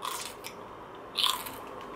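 Raw sugar snap peas bitten and crunched close up, two crisp snaps with a short crackle between, alone in a quiet room.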